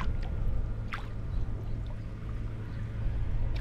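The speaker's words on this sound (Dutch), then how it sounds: "De wind die ruist hier door het riet." Steady broadband rushing of wind through reeds in a national park, a continuous soft hiss with low rumble, no voices, fairly close and even throughout.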